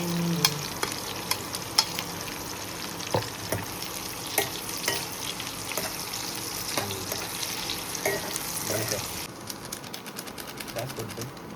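Onions sizzle and crackle in a hot pan for mutton curry, a steady loud frying hiss punctuated by sharp clicks and spatula scrapes, with voices talking over it.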